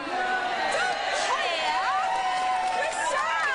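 An audience cheers and whoops loudly, with crowd voices and shouts carrying throughout the short burst.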